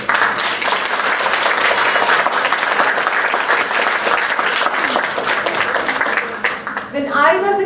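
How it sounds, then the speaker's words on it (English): An audience claps loudly for children after a performance, a dense continuous burst of applause close by that tapers briefly near the end before a short pickup. "Again, a big applause for the kids."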